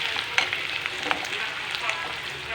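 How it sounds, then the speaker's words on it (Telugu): Green chillies and onion sizzle and crackle in a hot pan for rice rava upma, a steady bright frying hiss with small pops and no talking. "రెండు పచ్చిమిర్చి ఉల్లిపాయ వేగనియాలి"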